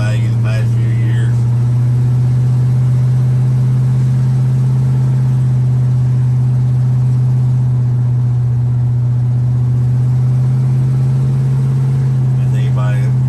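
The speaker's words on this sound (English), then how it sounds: "The truck's got a smooth ride with the drop. Good sound to it." Steady low drone of a 1977 square body truck's engine while driving, a constant loud hum through the whole stretch with road noise on top and faint voices in the background.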